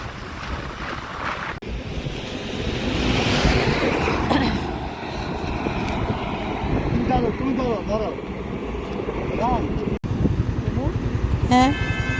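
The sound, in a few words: strong wind on Padma bridge while riding a bike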